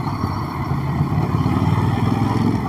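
A Ducati Monster SP 950 motorcycle engine runs steadily at close range, a loud, continuous rumble with no voices.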